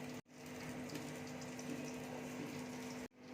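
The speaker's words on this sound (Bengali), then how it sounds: "এবার আমি একটা বোলের মধ্যে ঢেলে নিচ্ছি।" Pea curry being poured from a pan into a bowl gives a steady, faint, continuous wet pouring sound with a low hum underneath, running unbroken for about three seconds.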